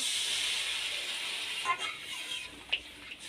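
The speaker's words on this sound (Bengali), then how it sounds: "এবার আমি জল দিয়ে দেব এক বাটি মতো জল দিয়ে দেব" Water poured into a hot pan of egg, eggplant and potato curry sends up a loud, even steamy hiss that slowly eases, with a couple of faint knocks near the end.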